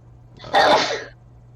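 A single loud sneeze bursts out close to the microphone, a sharp breathy blast that quickly fades.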